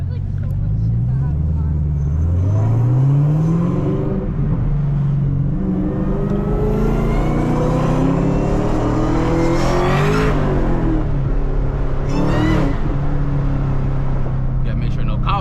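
Supercharged Camaro ZL1 with a manual gearbox pulling hard, its engine revving up loudly through rising sweeps with shifts between them under a constant roar, heard from inside the car, with people talking over it.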